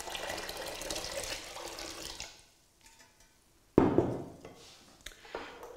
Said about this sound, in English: With a pint of water.